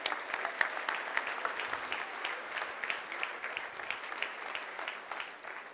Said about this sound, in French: On peut leur donner une bonne main d'applaudissement à toute l'organisation.